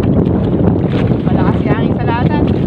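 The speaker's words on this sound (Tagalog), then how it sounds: "Malakas yung hangin sa latan." Strong wind buffets a fishing boat out at sea, a steady loud rush of gusts with water noise, and a voice speaks over it.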